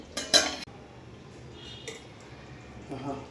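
A lid goes onto a pot of gongura chicken with a bright metallic clatter near the start, followed by quiet room sound and a soft rustle at the end.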